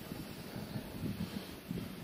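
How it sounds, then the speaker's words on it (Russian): Strong wind blows over open water by a boat on a pike fishing trip, a low, steady rumble with gentle gusts and no talking. "А вообще ветер очень сильный"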